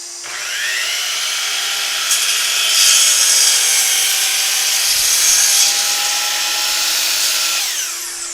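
A Delta Cruzer miter saw spins up and cuts through a 1-inch-thick board 6 3/8 inches tall, a loud high whining blade with a rising pitch and steady cutting roar before it winds down.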